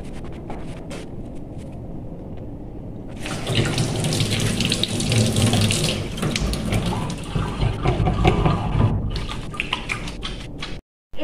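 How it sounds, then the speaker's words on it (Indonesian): Hands being washed under a running tap after a simple postpartum breast-care demonstration, water streaming steadily into a sink for several seconds after a quieter start, then stopping abruptly. "cuci tangan."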